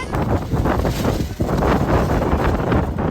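Wind buffets the microphone in gusts, a steady loud rumble and roar that fills the clip from start to end with no other clear sounds.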